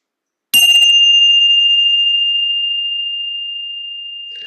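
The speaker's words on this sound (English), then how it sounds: "Allow the sound of the bell to call your awareness back" A meditation bell is struck once with a bright attack. A clear high ringing tone follows and slowly decays over several seconds in otherwise silent surroundings.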